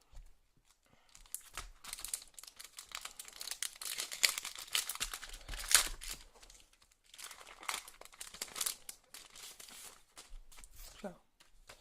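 Small gift set packaging being unwrapped and opened by hand, with bursts of crinkling plastic and tearing paper close up, pausing briefly midway and ending with a light rustle.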